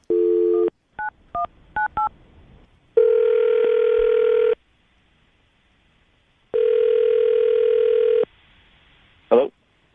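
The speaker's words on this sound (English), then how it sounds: "I'm going to call him right now, see if we can get him on the phone" A telephone call being placed: a short dial tone, a quick run of touch-tone dialing beeps, then two long ringback tones separated by silence, ending with a brief click, close and clear.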